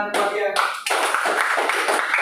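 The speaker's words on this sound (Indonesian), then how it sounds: "Mari tepuk tangan buat dia." A school class breaks into applause, a brief tonal sound and a talking voice giving way to a steady, fairly loud spread of scattered clapping that continues to the end.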